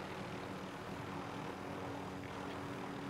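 Helicopter in Call of Duty Warzone, a steady rotor and engine drone holding at a moderate distance without pause, with no voices over it.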